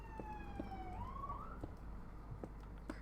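Sirens wail outside at a distance, a rising and falling emergency tone sweeping over a low ambient hum, with no talking.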